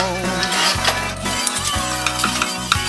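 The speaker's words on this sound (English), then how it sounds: "I fry the garlic until it turns into a golden brown color" Garlic frying in a pan on the stove, a steady close sizzle with light stirring and occasional utensil clinks throughout.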